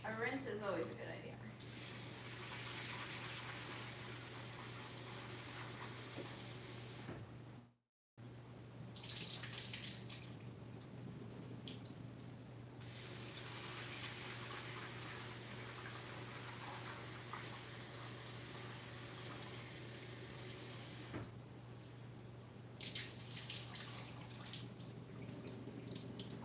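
Kale rinsed under running tap water at a kitchen sink, a steady close hiss of flowing water that cuts off briefly once before resuming and continuing for a long stretch.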